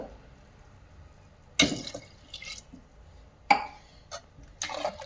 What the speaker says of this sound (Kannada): ಅದೇ ರೀತಿ ಇನ್ನೊಂದು ಗ್ಲಾಸ್ ನೀರು ಹಾಕ್ತೀನಿ, 2 ಗ್ಲಾಸ್.